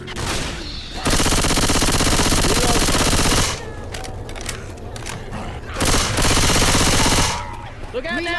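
Automatic gunfire in the zombie shooter Left 4 Dead 2, loud sustained bursts of rapid shots separated by gaps with scattered single shots and clatter, and voices shouting between the bursts.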